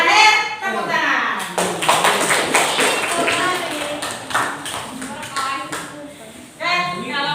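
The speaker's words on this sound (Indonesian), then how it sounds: "terakhir tepuk tangan." A classroom of pupils gives a final round of hand clapping, a dense run of sharp, fairly close claps lasting several seconds while children's voices and a teacher's talk carry on around it.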